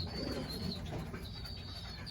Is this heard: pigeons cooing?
yes